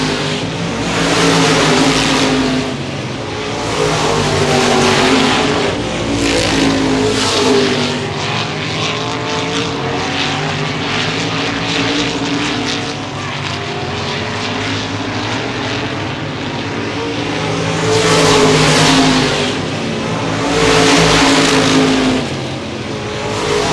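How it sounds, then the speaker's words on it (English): Gold Cup modified race cars at Baer Field Speedway, a dense continuous roar of many engines at full throttle, swelling and fading as the pack sweeps past during the feature race, with no talk. "Pete Wormcastle, Jeremy Wallen coming out of turn 3 and 4, looking at the cross flags, halfway through the Gold Cup modified feature."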